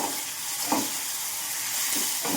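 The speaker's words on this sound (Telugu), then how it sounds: "కొంచెం కరివేపాకు వేసుకోవాలి. ఎండుమిరపకాయలు కూడా వేయాలండి. ఇలా ఇవన్నీ ఒకసారి ఫ్రై అయిపోవాలి." Curry leaves and dried red chillies fry in hot oil, a continuous close sizzle with a few soft stirring scrapes, heard alone without voices.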